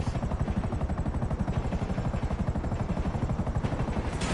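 A stealth attack helicopter in a GTA video game thunders close by with a loud, steady rhythmic rotor thump and a heavy engine whine, sustained throughout with no talk.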